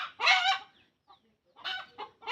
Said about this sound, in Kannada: ಯಾಕೋ ಕೋಳಿ ಭಾಳ ಒದ್ರಾಕತ್ತಾವ್ರಿ.